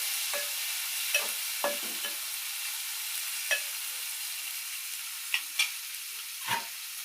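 Bagara rice is stirred in a pot, a handful of brief, scattered scraping strokes over a soft background hiss, close and fairly quiet with no talk.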